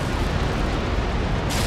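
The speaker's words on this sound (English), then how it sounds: "I'm going to unleash my cannons on Jim's ship there" Sailing-ship cannons fire a broadside in the naval battle game Empire: Total War, a loud continuous rumbling roar of massed guns booming together with no speech.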